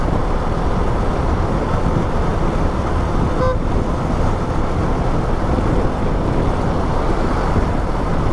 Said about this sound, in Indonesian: Ada truk di depan itu.